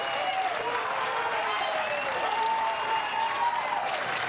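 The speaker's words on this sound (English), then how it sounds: "Crowd admiring the players admiring the crowd." Crowd at a mixed doubles badminton bronze medal match applauding steadily after a long rally, with faint voices mixed into the clapping.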